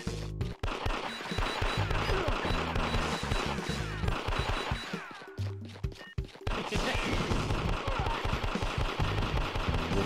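Rapid arcade gunfire in Elevator Action Returns while shooting an enemy boss, dense repeated shots and impacts over game music, loud and continuous with brief gaps.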